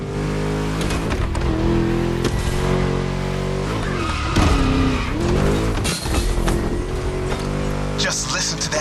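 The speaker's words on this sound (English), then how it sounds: "Just listen to that V8, like a chonky, down-tuned guitar riff." A V8-powered car in The Crew Motorfest video game races at full throttle, its loud, deep, throaty engine rising and falling through gear changes, with tire squeal and a voice talking over the roar.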